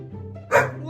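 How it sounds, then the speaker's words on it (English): A puppy gives a single short, high bark at close range, loud against a quiet indoor background. "Don't bark at me."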